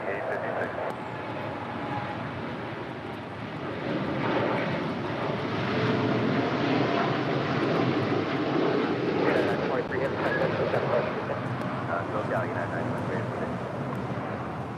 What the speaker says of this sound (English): That is United Airlines 923 departing to London Heathrow on the 787-9 Dreamliner